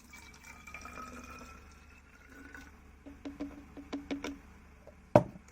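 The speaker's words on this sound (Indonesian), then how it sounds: "Setelah itu, masukkan air tersebut ke dalam botol." Water is poured from a measuring glass into a bottle, first as a faint trickle, then a series of small drips and splashes, ending in one sharp louder clink.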